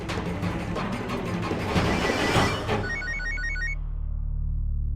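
A telephone rings with a rapid, trilling bell, close and fairly loud, over a clattering background that cuts off partway through, leaving a low hum.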